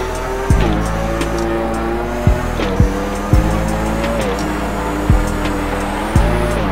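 Yamaha YZR-M1 MotoGP bike engine in GP Bikes, loud and close, revving high and dropping sharply at each gear change through tight corners, with several quick downshifts and no talk.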